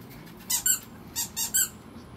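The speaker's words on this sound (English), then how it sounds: "Do you have any toys that squeak?" A squeaky dog toy squeaks in quick bursts, two sharp squeaks, a pause, then three more, close and clear over a quiet room.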